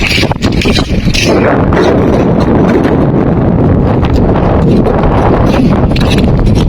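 Strong wind blowing at the seaside on a sunny day while people hunt for sea shellfish, a loud, constant buffeting roar battering the microphone throughout, with no speech heard.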